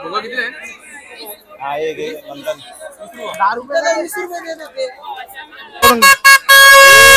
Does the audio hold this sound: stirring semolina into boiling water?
no